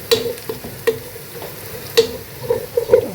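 Milk goes into a pan of fried chicken roast gravy for an Eid meal, with sizzling and stirring at close range and a few sharp spoon scrapes and clinks breaking through a steady low fry.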